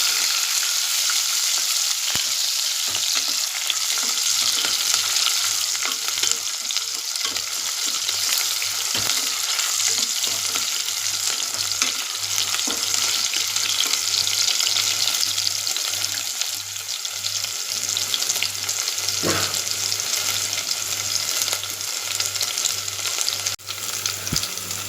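Shallots and garlic sautéing in a pan for a fish curry, giving a steady loud sizzle throughout with occasional stirring scrapes and no talk.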